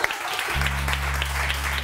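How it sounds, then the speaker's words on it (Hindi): Studio audience applause on a morning television show, steady clapping wash lasting under two seconds, with a low sustained hum entering halfway through. "बहुत सारी तालियां"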